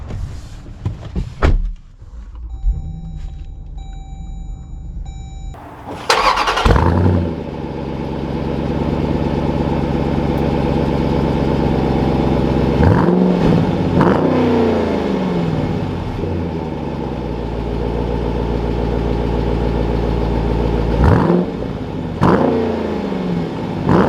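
A 2021 Dodge Durango SRT starts up with a loud burst, settles into a deep idle, then revs and pulls away with rising engine sound and a few gear changes, close and with no talk.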